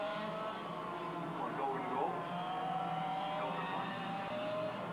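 Go-karts racing flat out at Kaitoke track, high-pitched engines whining and shifting pitch as they rev and pass, steady and mid-distance, with a voice talking over them.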